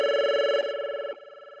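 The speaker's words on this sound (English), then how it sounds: "moving this up or down will adjust the ringer volume as such" An Avaya 4412 desk phone ringer trills in a steady repeating electronic pattern, stepping down in loudness twice as the ringer volume is lowered, with no talk over it.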